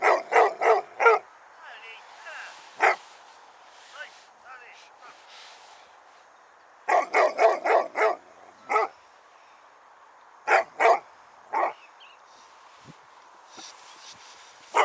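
A dog barks in bursts of several quick, sharp barks separated by quieter gaps, loud and fairly close against a calm outdoor background, with occasional single yips, while no one speaks.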